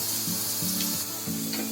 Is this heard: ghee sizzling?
yes